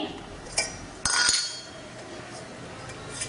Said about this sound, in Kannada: ಒಂದು ಬಾಣಲೆ ಇಟ್ಟು